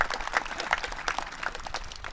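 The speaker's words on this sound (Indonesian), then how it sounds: "Tepuk tangan untuk Gus Muafi." Audience applause at a Banser basic training ceremony, a brief patter of scattered clapping with uneven bursts, moderately loud and without voices on top.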